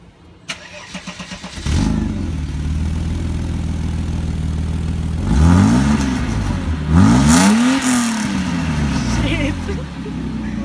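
A Mercedes-Benz engine with freshly welded exhaust work starts after a few cranks and settles into a loud, close idle, then revs twice in rising-and-falling sweeps before dropping back to idle, with people talking nearby.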